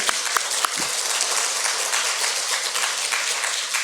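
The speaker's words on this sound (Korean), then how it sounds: "우리 다시 한 박수 한번 할까요?" A church congregation at a Sunday afternoon service applauds in a dense, steady wash of clapping, close and full, with a few louder individual claps at the start.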